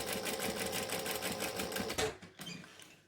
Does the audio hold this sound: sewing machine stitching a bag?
yes